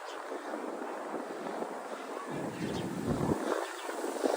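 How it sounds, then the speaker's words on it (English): Wind blowing into a microphone outdoors in Queens, New York, a steady hissing rush with low rumbling gusts, fairly faint and continuous, with no clear speech. "Oh, it's wind. Wind's annoying."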